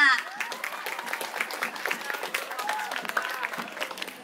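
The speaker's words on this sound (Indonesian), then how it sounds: "Tepuk tangan untuk Akmala Sabila" At a National Santri Day school celebration, the audience claps for a student in a scattered, moderate round of applause while a voice talks over it.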